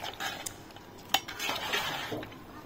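Meat curry with whole green chilies stirred in a pot, a spoon scraping and clinking against metal in soft irregular strokes with one sharper knock.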